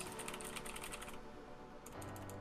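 Quick typing on a Razer mechanical keyboard fitted with O-ring dampeners, a short rapid burst of muted key clicks, then a pause and a few more keystrokes, close and fairly quiet.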